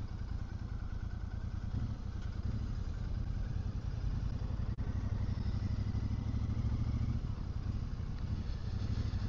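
A motorcycle being ridden on the road, its engine a steady low drone with wind rush, continuous throughout and fairly close, with no one speaking.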